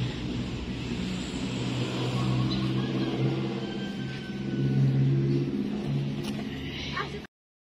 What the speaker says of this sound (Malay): Maaf ya, ada suara kebisingan dari motor.